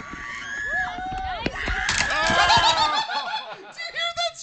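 A woman's scream from a replayed hurdles race clip in which a girl stumbles into a hurdle, rising over busy overlapping voices, shouting and laughter in a loud, chaotic mix.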